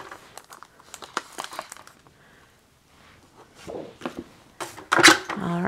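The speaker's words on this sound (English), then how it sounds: "let's cut that acetate one more time" An acetate sheet for a watercolor overlay is cut and handled, producing close crinkling crackles and crisp snips in uneven bursts, growing louder near the end.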